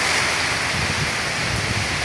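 Strong typhoon wind roars steadily and loudly throughout, a continuous broadband rush with no pauses, like surf or heavy wind buffeting the microphone.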